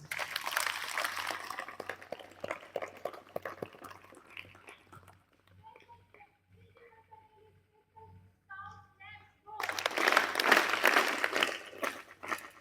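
Audience applause at a school gathering, a loud burst of clapping that fades into a quiet stretch with faint tones, then swells again into strong clapping near the end.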